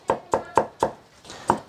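A knife chops lotus root into shreds on a cutting board: four crisp, evenly spaced strikes, a short pause, then one more, close and clear with no talking.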